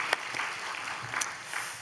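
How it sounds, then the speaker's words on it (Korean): A church congregation applauding during a Wednesday worship service, a brief, soft wash of clapping from the room, fairly even and mid-distance. "하나님께 영광의 박수 드리겠습니다."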